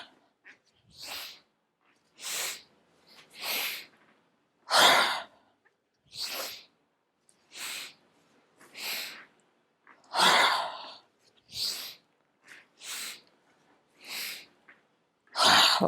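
Rhythmic, forceful breaths in the Breath of Joy exercise, a steady series of about a dozen sharp, airy inhales and exhales close to the listener, each separated by a brief pause.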